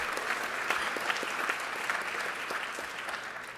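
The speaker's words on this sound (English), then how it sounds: "if we could just give them another round of applause." Conference audience applauding, a brisk, even patter of many hands clapping at moderate distance that tapers slightly toward the end.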